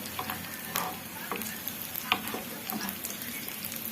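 Garlic fries in a pan with only a little olive oil, giving off a steady close sizzle dotted with sharp pops and crackles, with no voices.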